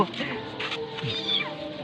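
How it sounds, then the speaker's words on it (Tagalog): A cat meows close by, with a short mewing call rising above a busy, noisy outdoor background and some overlapping voices. "May pusa. May pusa doon."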